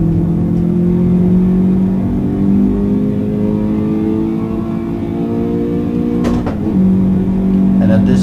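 A Toyota GT86 at full throttle in the Assetto Corsa racing game, its engine a steady, loud droning tone that climbs slowly in pitch, with a brief dip near the end.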